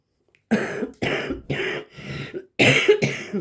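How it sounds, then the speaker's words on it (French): Six sharp coughs in quick succession, close and loud, separated by brief pauses, with the last two coming harder. "Désolé pour la toux."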